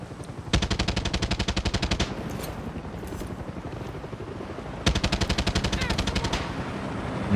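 A helicopter in Far Cry 6 fires its machine gun in two long, rapid, evenly pulsed bursts, loud and close, while the rotor drones steadily underneath.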